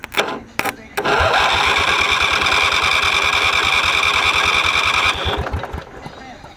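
A homemade redneck lawn mower engine, hand-wired with the battery held on by hand, cranks with a few short bursts, then catches and runs loud with rapid chugging pulses for several seconds before dropping off; voices are heard around it.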